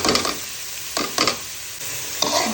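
Washed chinigura field rice fried and stirred in a pan for khichuri: four brisk stirring strokes scrape through a steady close sizzle, with no voices.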